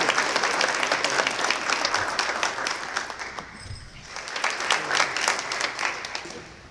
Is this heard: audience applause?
yes